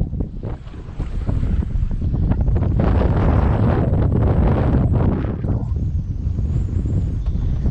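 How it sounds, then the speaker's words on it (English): Heavy wind buffeting a microphone on a fishing boat, a loud, close, continuous rumbling roar that gusts and surges for several seconds, alone without talk. "sorry about the wind, guys."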